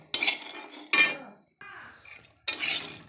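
Roasted peanuts are stirred in a pan with a metal utensil, giving several close, scraping, rattling bursts separated by short pauses.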